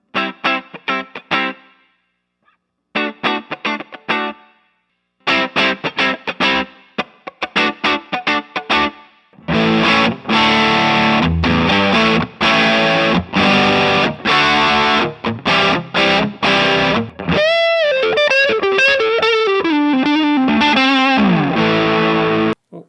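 Electric guitar through a Tube Screamer overdrive pedal, choppy stop-start chords at first, then sustained driven playing ending in bending, sliding notes.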